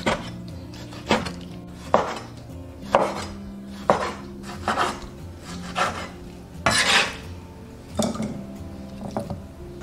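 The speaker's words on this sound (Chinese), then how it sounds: "然后切成大块。" A knife chops cooked pork belly into large chunks on a board, giving about eight loud, evenly spaced thuds, close up and alone.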